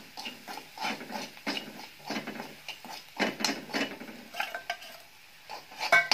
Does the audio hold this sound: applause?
no